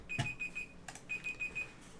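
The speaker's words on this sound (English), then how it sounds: "Beep, beep, beep, beep." An alarm or timer beeps in short, evenly spaced bursts, one group of four and then another group of four after a brief pause. The beeps are faint and high-pitched over a quiet room with a few soft knocks.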